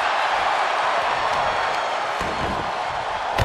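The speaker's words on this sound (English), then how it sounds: "This crowd is loving this action." The arena crowd in the WWE 2K22 wrestling video game keeps up a loud, continuous roar and cheer with a faint rumble underneath, and a heavy thud lands near the end.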